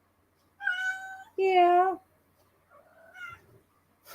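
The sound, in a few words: cat meowing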